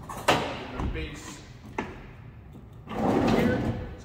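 Slide-out toolbox drawers on both sides of a farm truck bed, opened and shut in a few sliding thumps with a sharp knock near the start, a second around two seconds, and a longer rolling slide near the end.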